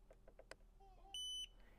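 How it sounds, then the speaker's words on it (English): A Tesla chime sounds once when the left scroll wheel is pressed to switch a setting on: a short, clear electronic beep, faint but distinct over a low cabin hum, following a few soft taps. "you should hear a beep"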